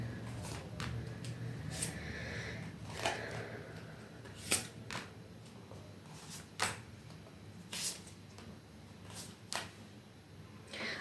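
A deck of tarot cards being shuffled by hand, a soft continuous riffling broken by sharp snapping flicks at irregular intervals, close and clear with a light background hum.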